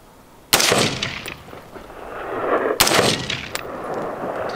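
Two sharp, loud rifle shots from a scoped rifle crack outdoors about two seconds apart, each followed by a rolling echo that fades slowly across open ground.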